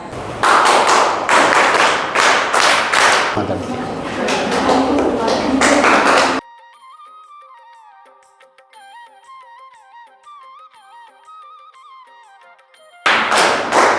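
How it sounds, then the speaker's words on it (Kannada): An audience at a beauty parlour training closing and certificate ceremony in Chikkaballapur claps in loud, dense bursts for several seconds, then a quiet electronic melody plays alone before the clapping briefly returns. "ಚಪ್ಪಾಳೆ ಸರಿಯಾಗಿ ಬರ್ತಾ ಇಲ್ಲ."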